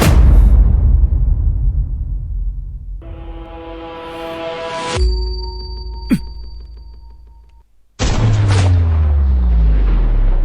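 Heavy-caliber sniper rifle fire in a drama scene: a loud booming report with a long decaying tail, a sharp metallic crack partway through, then another abrupt loud blast after a brief silence, with no speech.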